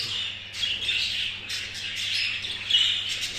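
Pet birds in a breeding cage chirp and squawk continuously, a dense chatter of overlapping high calls heard close up over a faint low hum.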